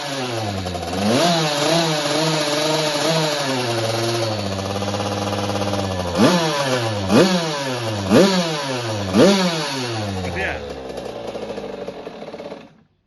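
A Puch Cobra M-82 TT motorcycle's two-stroke engine idles steadily up close, then is blipped through several sharp revs that rise and fall before it cuts off at the end.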